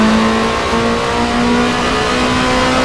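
A touring race car engine from the PC racing game Race 07 WTCC drones loudly and steadily at high revs, a sustained buzzing note held throughout with no talk.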